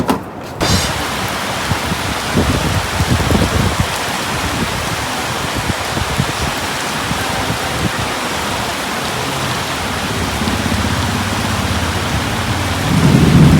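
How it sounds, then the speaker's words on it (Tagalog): Heavy rain pours steadily on surfaces outdoors in the Philippines, a dense constant roar with low thunder rumbling through and swelling again near the end, no voices. "So ayan, inabot kami ng malakas na ulan."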